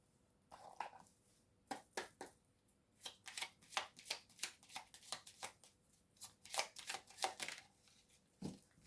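Oracle cards being shuffled by hand during a tarot-style reading, a string of quick papery riffles and soft slaps in uneven bursts, close and fairly quiet, with no talking.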